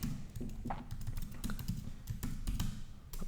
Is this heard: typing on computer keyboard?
yes